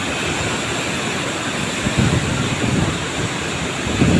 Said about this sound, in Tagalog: Ayan na. Ang baha na.